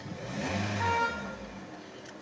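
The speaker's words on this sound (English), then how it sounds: "right now the vehicle is running" A Toyota or Lexus car engine runs steadily with its ABS and check engine warning lights on. The fairly close, even hum swells slightly, then settles, with no talk over it.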